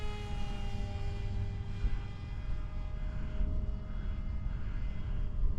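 An FF-35V2 remote-control model airplane on its maiden flight drones steadily overhead with a thin electric whine, moderately distant and continuous over outdoor wind noise.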